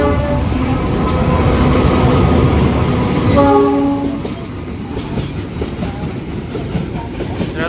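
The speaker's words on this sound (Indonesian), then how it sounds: "Ternyata ada kereta angkutan BBM Pertamina yang melintas langsung di jalur yang ini" A Pertamina fuel freight train rolls past a level crossing, loud and close, with a steady rumble and clatter of wagons and a sustained horn blast that cuts off midway, leaving the rolling noise to carry on alone.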